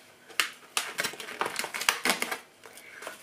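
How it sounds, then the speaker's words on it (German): Plastic foil wrap is peeled off mushrooms in a kitchen, a series of close, sharp crinkling crackles and rips coming in irregular bursts over a few seconds. "Also ich mache die Folie mal ab."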